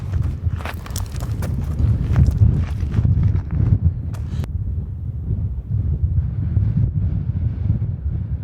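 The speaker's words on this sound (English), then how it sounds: "It's sunny, but very windy." Strong gusts blowing across open desert on a sunny day, buffeting the microphone with loud low rumbling, crackling bursts early on, then a steadier roaring wind.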